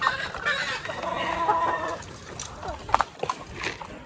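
Chickens cluck and squawk close by in a noisy yard, with a few sharper calls near the end and some faint voices in the background.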